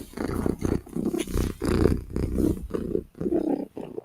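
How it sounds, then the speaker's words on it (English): Low rumbling purr from a big cat, steady and close, broken into pulsing stretches with brief pauses between breaths. "when Cat is purring, Cat is a happy, happy, happy girl."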